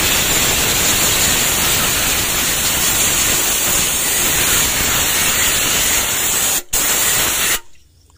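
Cleaner sprayed onto sludged engine parts, including the push rod holes of an engine with jelly-like oil crust, as a loud continuous hiss lasting several seconds close up, with one brief break before it stops.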